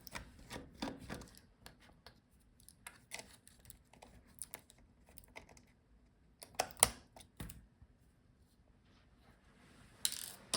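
Small screws being unscrewed inside a Dell Inspiron 5402 laptop during a teardown, faint scattered ratcheting clicks and light scraping of a small screwdriver, close but quiet with gaps between turns.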